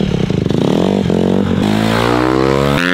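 A 2021 Honda CRF150R dirt bike engine revs hard and close, its pitch climbing and dipping through several throttle blips before a sharp cut at the end, loud and harsh.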